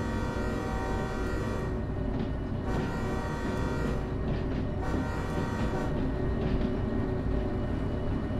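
A train pulls out of a station in the VR game Derail Valley, a steady engine rumble with droning tonal hum and short horn-like tones rising and falling over the constant mechanical bed.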